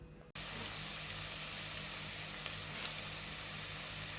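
Onions dropped into hot oil sizzle and fry with a steady, loud crackling hiss after a brief quiet start, part of a Kenyan home-cooked dish with garlic, ginger and fresh chilies.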